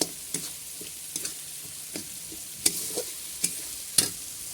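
Spatula scraping and stirring vegetarian khichuri spices in a pan, a few sharp scrapes spaced irregularly over a faint background sizzle, quiet and close with no talking.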